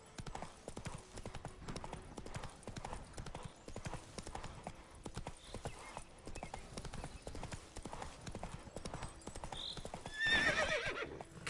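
Roach the horse in The Witcher 3 galloping, a steady rapid clip-clop of hooves on the ground, ending in a loud close whinny near the end.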